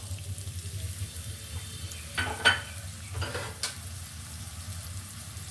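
A cup of chopped onion goes into hot oil, where fish is also being cooked, bringing a soft frying hiss with a couple of brief spatter bursts midway. No one speaks.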